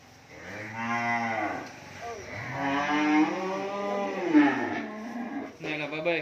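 Cattle moo at a cow farm, several long drawn-out calls one after another, loud and close with a short gap between them.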